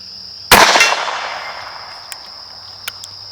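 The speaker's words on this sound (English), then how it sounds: "This is actually my first time shooting this at 50 yards, but I feel like I can hit that big steel plate." A .22 LR round fired from a 12 gauge adapter at a steel plate 50 yards out: one sharp, loud report with a decaying tail, followed by a couple of faint, brief ticks over a steady background.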